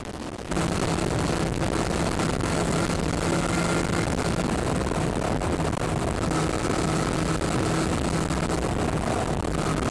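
A 2002 Yamaha Fazer 600 motorcycle being ridden, its engine starting up loud after a brief quiet moment and then holding a continuous buzzing drone with wind rush, steady throughout with no speech.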